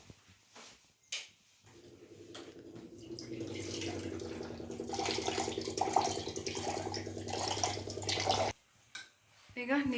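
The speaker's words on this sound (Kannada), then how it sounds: "ಈಗ ನೀರು ಹಾಕೊಂಬಿಟ್ರು." Water poured into a pot of mixed vegetable sambar, a sustained splashing gush that swells and then cuts off, close by, with a person talking over it.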